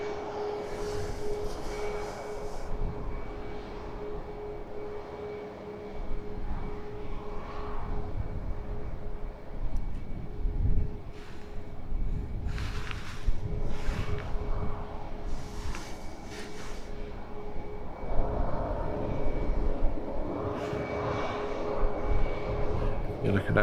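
Airplane landing at Edinburgh Airport, a distant, steady engine rumble and roar with intermittent swells, heard beneath a person talking.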